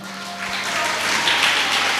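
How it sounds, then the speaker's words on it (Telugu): A church congregation at a Sunday worship service claps loudly together, a dense, even wash of applause sustained from start to finish. "గట్టిగా చప్పట్లు కొడదామా?"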